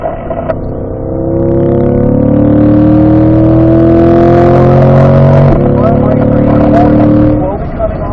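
A car on a race track shifts from fourth to fifth gear, its engine note climbing in a loud sustained rev before dropping sharply at the shift, then resuming, with wind and cabin noise and a voice talking over it.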